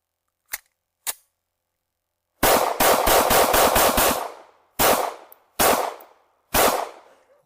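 Shots from an FN 509 polymer pistol: two quiet early pops, then a loud rapid string of about seven shots, followed by three more spaced single shots, all sharp and close.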